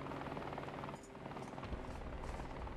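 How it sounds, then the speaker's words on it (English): A helicopter rotor thrums continuously and fairly quietly in the War Thunder combat game, with faint battle noises around it and no voices. "Where's this chopper at?"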